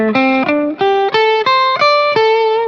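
Electric guitar through distortion and effects playing a classic pentatonic box-shape lick: a quick run of about ten sharply picked, sustained notes climbing in pitch, loud and close with no talking.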